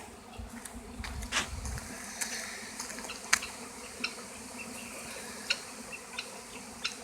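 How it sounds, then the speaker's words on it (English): A wild honey bee swarm of tens of thousands of bees moving near a small shed, a faint continuous buzzing hum with scattered sharp clicks and close insect passes. "There are literally tens of thousands of bees here."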